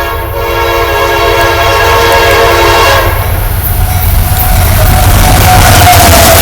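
A freight train horn blows loud and close in one long sustained blast, with heavy rail rumble beneath and the tone cutting off partway while the rolling noise continues.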